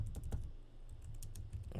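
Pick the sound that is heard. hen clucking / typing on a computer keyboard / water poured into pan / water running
typing on a computer keyboard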